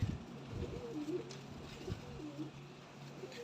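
Soft, low pigeon coos repeat a few times against a murmuring background, fairly quiet and close.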